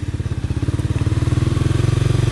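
A 2010 Honda CBR 250 motorcycle with a modified exhaust revs up close and loud, its fast, even firing pulses climbing steadily in pace.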